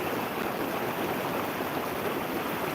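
Steady rushing water of the Pazarsuyu stream in Bulancak, Giresun, Turkey, continuous and fairly close, with a broad even wash of noise and no voices.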